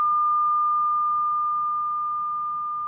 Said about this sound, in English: So it's just a sine wave.